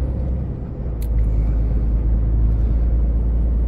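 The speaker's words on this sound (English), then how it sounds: "Ide gas, voziš naranđastog žutog Renaulta T" Orange-yellow Renault T truck accelerating, its diesel engine producing a heavy low rumble that swells louder after the first second, with a brief hiss of air; close inside the cab, no talk.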